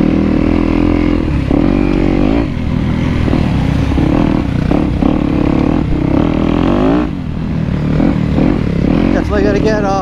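A Yamaha YZ250X two-stroke dirt bike rides a wet motocross track at Buttonwoods MX, its engine droning loud and steady throughout with brief dips as the throttle eases, close to the rider.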